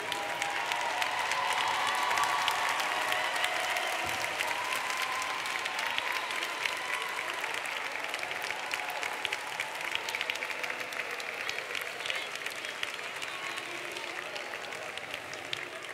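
Sustained applause from a seated crowd at a university graduation ceremony, steady dense clapping throughout, slightly reverberant and fairly distant.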